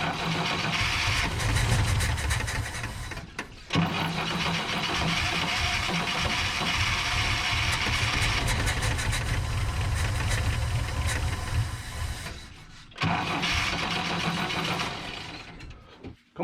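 A 1963 GMC service truck with a rat-rod engine cranking repeatedly without catching, a loud, steady, rapid mechanical churn in long bursts broken by short pauses, close by and with no talking.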